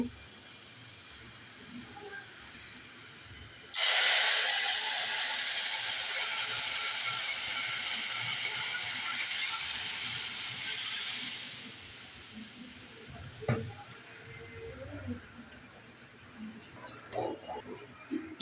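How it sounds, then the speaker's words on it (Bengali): Dal tipped into a hot pan of oil with dried red chilies for banana dal bursts into a loud, sudden sizzle that slowly fades over several seconds, followed by quieter stirring clatter while someone talks. "এখন ভেজে নিব একসঙ্গে এখন ডালটা দিয়ে দিব"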